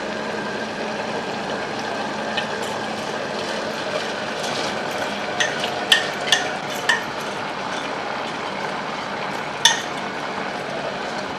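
Washed rice being stirred into mushroom biryani in a pot, with soft scraping and a few light metallic clinks of the spoon against the pot. No speech.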